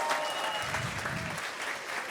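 A crowd at a live event applauds steadily to welcome the performer Benas Aleksandravičius, a dense, sustained clapping that holds at an even level throughout.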